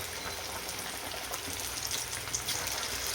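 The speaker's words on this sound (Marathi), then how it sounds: "तर आता आपण या वड्या आहेत त्याच्यात तळून घेऊया." Alu vadi slices frying in plenty of hot oil, a dense, steady crackling sizzle that runs throughout with small popping spits.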